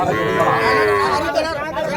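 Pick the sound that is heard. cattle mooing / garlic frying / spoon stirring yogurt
cattle mooing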